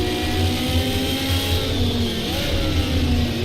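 A race car's engine revs steadily at high pitch in a racing video game, loud and close, with no voices over it.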